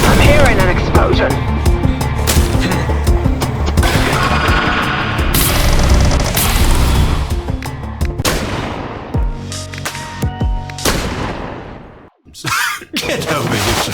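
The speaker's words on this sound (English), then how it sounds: "I'm hearing an explosion." Loud, dense game combat with booming blasts and gunfire-like bursts filling most of the stretch, a brief drop near the end before the roar resumes; a voice speaks over it.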